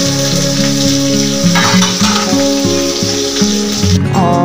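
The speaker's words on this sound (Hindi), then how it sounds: "तो बस अब दाल में तड़का लगाऊंगी यहाँ" Hot ghee sizzling loudly as a tadka for moong dal in a home kitchen, a dense continuous crackle and hiss, close up, with steady tonal background music throughout and no voices.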